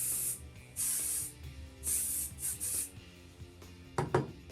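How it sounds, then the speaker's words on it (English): Hairspray hisses onto teased hair while styling half-wig victory rolls, in several short and longer bursts separated by pauses, close and clear, with a few light brushing and rubbing sounds near the end. "Okay, spray."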